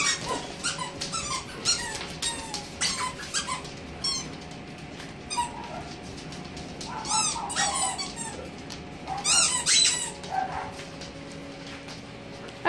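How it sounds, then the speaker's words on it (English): Several dogs playing with squeaky toys, close by, with repeated sharp squeaks in quick bursts, plus occasional whimpers and low growls between them. "I wonder what person sent these squeaky toys for everybody."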